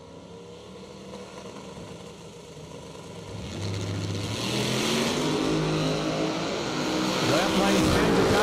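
A race car at a radial-tire drag racing event runs down the drag strip, its engine roar swelling loudly after about three seconds and holding steady to the end, with voices underneath.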